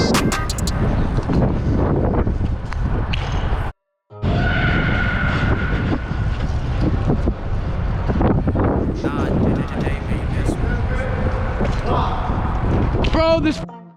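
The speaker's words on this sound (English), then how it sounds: "Bro, this wind." Strong wind roaring and buffeting a microphone outdoors, loud and continuous with a brief dropout, under people talking.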